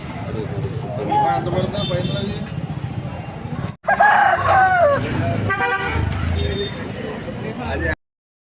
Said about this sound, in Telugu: మంచి అగ్రెసివ్గా ఉన్నాయన్నమాట కోడిపుంజులు.